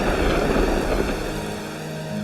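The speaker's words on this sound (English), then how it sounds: "rain." Steady rain falling outdoors near a river's headwaters, a dense continuous hiss of drops at moderate level with no talking.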